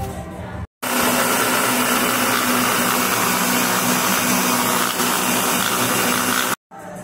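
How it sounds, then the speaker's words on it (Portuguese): A loud, steady motorized whir runs nearly the whole time, starting and stopping abruptly like a blender switched on and off, blending a detox tea mixture with ginger. "Agora eu vou passar no liquidificador."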